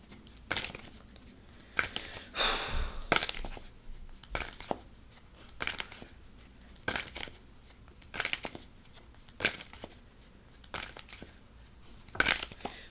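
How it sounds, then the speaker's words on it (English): Tarot cards being shuffled in repeated bursts, crisp riffling and slapping sounds recurring every second or so, close and alone. "I felt like I was shuffling forever"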